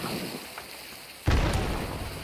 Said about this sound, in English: Frag bombs.